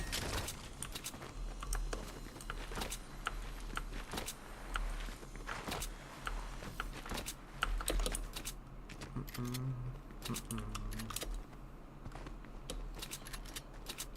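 Rapid computer keyboard clicks from typing run steadily throughout, fairly close, with a constant low background hum and some brief louder taps.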